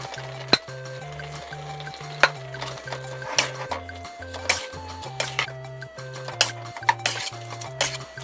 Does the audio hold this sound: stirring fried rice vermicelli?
yes